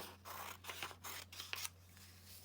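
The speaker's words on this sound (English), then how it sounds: "carefully take your scissors and cut along this edge" Scissors snip through a square of origami paper in several quick cuts, crisp and close with short pauses between strokes, in a quiet room.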